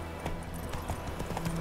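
Roach the horse clip-clops at a steady gait in The Witcher 3, hoofbeats repeating in a loose rhythm over low, constant background ambience. No one speaks.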